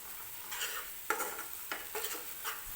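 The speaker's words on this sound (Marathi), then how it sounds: "असंच तेलामध्ये 1-2 मिनटं मी मसाला सगळा व्यवस्थित परतून घेणार आहे" Masala stir-fried in oil in a pan for matar paneer, with sizzling under repeated scraping strokes of a spoon against the pan, close and steady, and no talking.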